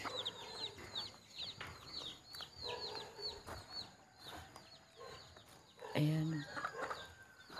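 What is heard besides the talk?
chickens clucking in a garden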